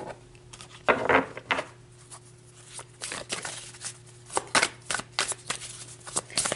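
A deck of tarot cards is shuffled up close in bursts of crisp riffling and slapping, with short pauses between passes over a steady low hum.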